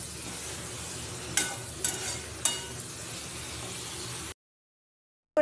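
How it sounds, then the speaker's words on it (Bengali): Fish roe fritters are stirred and sautéed in a pan, producing a soft, even frying hiss broken by a few sharp utensil scrapes and clicks, then cutting abruptly to silence near the end. "ডিমের বড়া সব দিয়ে ভালো করে নেড়ে চেড়ে কষিয়ে নিচ্ছি।"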